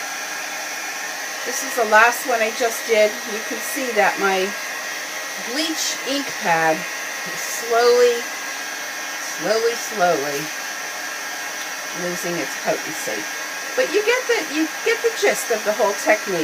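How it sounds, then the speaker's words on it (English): A loud heat gun blows steadily over bleach-stamped paper with a constant rushing whoosh, while someone talks over it throughout. "Let me just hit this with the heat gun to see if that does anything."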